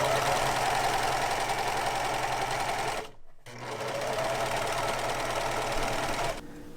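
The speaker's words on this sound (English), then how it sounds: "I'm going to go ahead and serge all the raw edges except for the hem." A serger overlocks the raw fabric edges of pajama pants, a loud steady mechanical whir that stops briefly midway and then resumes before cutting off near the end.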